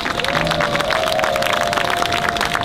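A crowd at an outdoor street-completion ceremony claps steadily and continuously, a dense wash of applause with a faint sustained tone running underneath.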